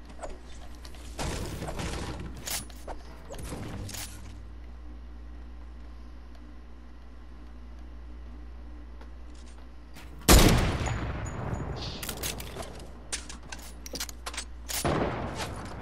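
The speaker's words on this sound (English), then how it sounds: "Who's shooting at me?" Fortnite gunfire: a few scattered bursts of shots early on, then a louder cluster of rapid shots near the end over steady low game background.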